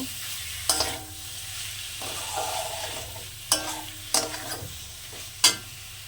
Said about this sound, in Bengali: চিকেন আমি কিমা করে নিয়ে আসছি দিয়ে দিলাম চিকেনটা চিকেনটা আমি সুন্দর করে কষে নেব